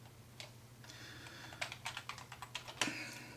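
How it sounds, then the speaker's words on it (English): Typing on a computer keyboard while entering form code, a run of clear, close keystrokes in an uneven rhythm, sparse at first and then quickening into a cluster of sharper clicks, over a low steady hum. "We're going to type title equals."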